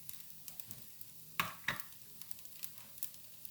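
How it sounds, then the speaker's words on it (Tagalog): Tuna sautéing in a pan with plenty of oil gives a quiet, low sizzle broken by a few sharp spatters and pops, faint and steady, with no voices. "Ito, magigisa ako ng tuna. Kasi maraming mantika eh."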